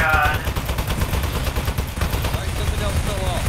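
Rapid gunfire in the video game Aperture Desk Job, shooting at crates, as a dense, loud burst of shots that runs the whole time with game sounds mixed in.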